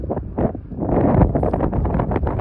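Strong wind sweeps across an open fell on a solo hike in Vätsäri, a steady low rumbling buffet on the microphone that swells and holds with no one speaking.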